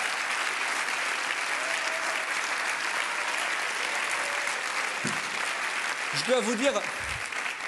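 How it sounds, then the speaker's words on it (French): Sustained applause from a large crowd at a political gathering fills the clip, welcoming François Bayrou, with a voice briefly speaking over it near the end. "je vous demande d'applaudir et d'accueillir notre ami et camarade"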